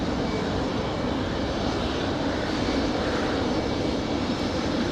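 A Boeing 737 jet arriving from Minneapolis at Raleigh Durham airport roars as a steady, broad engine rumble, moderately loud and unbroken.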